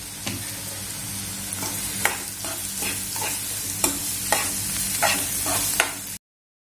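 Onion fries in oil in a pan, a steady close sizzle punctuated by several sharp clacks of a spatula stirring, then it cuts abruptly to silence.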